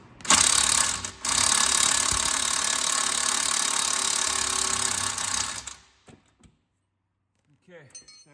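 An impact wrench loosens a strut bolt on a 1989 Mustang, giving a loud, continuous buzzing whir for about five seconds before stopping, followed by a brief voice.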